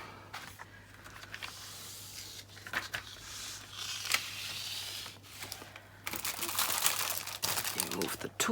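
Big adhesive cover film peeled off a 40 by 40 centimeter diamond painting, a crinkly crackling tear that builds and turns louder and denser near the end, close by with light handling noises.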